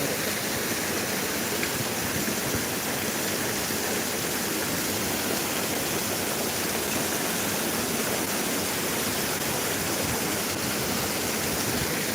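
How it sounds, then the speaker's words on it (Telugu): A waterfall roaring in a forested spot with very tall trees, a constant, loud, broadband rush of falling water lasting the whole stretch with no voices. "ఎలా ఉంది మరి వాటర్ ఫాల్స్"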